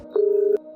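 A single short electronic tone from a telephone sounds, steady for about half a second. It is loud and alone, and clicks come just before and after it.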